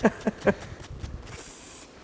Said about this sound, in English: Okay, that's spraying fuel.